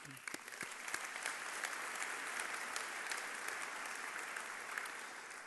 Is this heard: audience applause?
yes